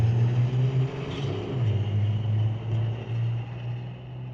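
A Mercedes AMG GTR drag racing a 2016 Ram truck at a diesel drag strip, a loud low engine rumble that swells and eases over a few seconds.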